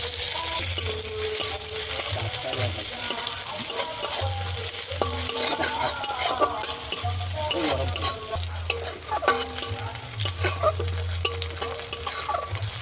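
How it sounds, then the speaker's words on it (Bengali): Chopped onion frying in oil in a pan, with a steady close sizzle throughout and repeated scraping and stirring strokes of a spatula over it, no voices. "পেঁয়াজটাকে হালকা বাদামি রঙের করে ভেজে নেব"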